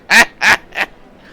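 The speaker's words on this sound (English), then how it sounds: "We're gonna be racing chickens." Chickens squawk in a chicken race in the video game Yakuza 5, three loud nasal squawks in quick succession, each shorter and quieter than the one before, heard alone.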